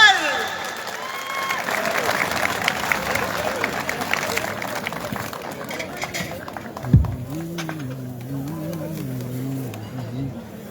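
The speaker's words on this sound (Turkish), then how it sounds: "Hadi alkışlar" Wedding guests at a Turkish ceremony clap together, a moderate crowd applause that fades out midway, followed by a voice speaking over a quieter background.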